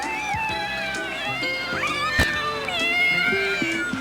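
A cat meowing repeatedly in close, clear, plaintive cries with rising and falling wails, layered over a soft musical background.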